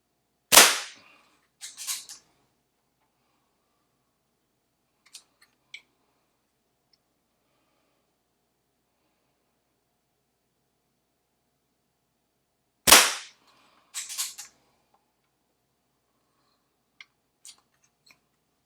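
A custom Crosman 2300S air pistol fires at a 10 meter target, two sharp loud shots about twelve seconds apart, each followed by clicks and rattles of handling, then quiet ticks.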